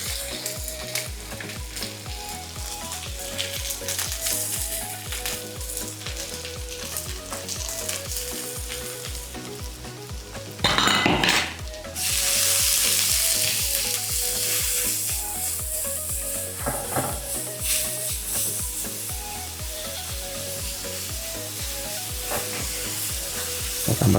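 Spice paste for a spicy beef tongseng sizzles and fries steadily in hot oil, with repeated stirring strokes and a brief louder burst of hissing steam partway through, close and loud throughout.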